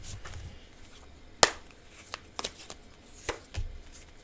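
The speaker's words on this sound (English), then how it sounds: "okay, one more shuffle" Tarot cards being shuffled, soft papery riffles and a few sharp snaps and taps, quiet and close, with no speech.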